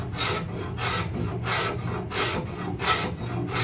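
Steady back-and-forth rasping of a file or rasp shaping the bottom section of a wooden walking stick, rounding over and tapering it, with about seven rhythmic strokes close up and no talking.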